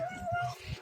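A short kitten meow, close and fairly soft, with a faint person's voice beside it.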